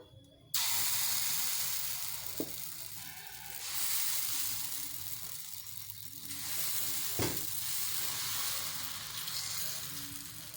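Mung bean dosa batter mixed with carrot hits an oiled hot pan and bursts into a loud, steady sizzle that holds with gentle swells and a couple of soft knocks.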